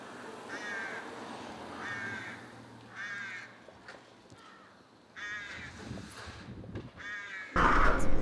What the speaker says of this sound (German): Ja, die Krähen stören natürlich schon.